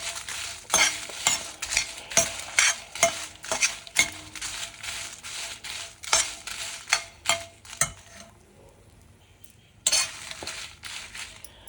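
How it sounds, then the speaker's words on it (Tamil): Dried red chillies roasting in oil on a low flame, with a steady run of sharp stirring scrapes and clinks of a spoon against the pan over a soft crackle, then a short near-silent pause before the stirring resumes. "இதையும் லோ ஃப்ளேம்லேயே இந்த எண்ணெயிலேயே அப்படி லைட்டாக வறுத்துட்டிங்கன்னா சூப்பராக கிறிஸ்பியாக வறுபட்டுடும்"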